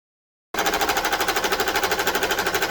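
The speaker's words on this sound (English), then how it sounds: "While that's stitching" A Ricoma EM1010 embroidery machine starts abruptly after a short silence and stitches at high speed, a loud, fast, evenly pulsing mechanical chatter that runs on without a break.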